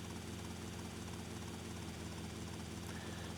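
A helicopter in GTA Vice City Definitive Edition gives a loud, steady whir of spinning blades and engine, continuous and close, with no voices.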